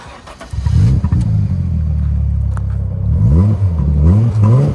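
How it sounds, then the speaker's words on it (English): Pininfarina-designed car in mint condition with a V6 engine: it starts with a catch and a roar, then idles loudly up close before several rising and falling revs, with no voices over it. "The engine note they say on this is probably one of the most glorious notes ever concocted out of a V6"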